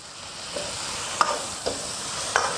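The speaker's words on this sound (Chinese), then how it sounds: "大火翻炒匀净" Chicken feet with preserved egg, garlic and fermented black beans being stir-fried over high heat in a wok, a continuous sizzle punctuated by a few sharp scrapes and clinks of the spatula.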